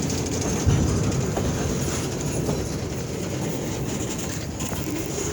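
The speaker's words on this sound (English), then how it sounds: "I currently had to stop for the train." A freight train rolls past a rail crossing at night near Valliant, Oklahoma, a loud continuous rumble of wagons with rhythmic wheel clatter and faint squeal, steady throughout.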